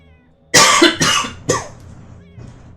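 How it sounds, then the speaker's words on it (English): Three sharp, loud coughs come in quick succession from a single person close to the mic, followed by a faint trailing sound, with quiet room background in between. "Sorry for coughing."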